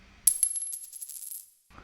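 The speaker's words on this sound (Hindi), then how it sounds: "इधर सिक्का नीचे गिरा और फर्श पर जा गिरा।" A coin drops onto a floor with a sharp metallic strike, then a bright ringing spin and a rapid rattle as it settles, heard alone and up close.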